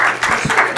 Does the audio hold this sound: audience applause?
yes